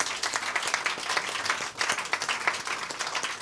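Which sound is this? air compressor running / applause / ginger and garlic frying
applause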